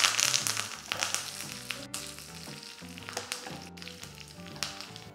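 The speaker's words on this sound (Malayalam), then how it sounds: "ഗോൾഡൻ ബ്രൗൺ കളർ ആകുമ്പോൾ കുറച്ച് കറിവേപ്പിലയും കൂടെ ചേർക്കാം." Shallots and curry leaves frying in hot oil in a pan for a tomato stew, a busy crackling sizzle with sharp pops and stirring scrapes, close and loud throughout.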